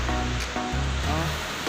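Seawater washing at the seashore, a loud steady broadband rush of surf with some wind buffeting, heard close and alone.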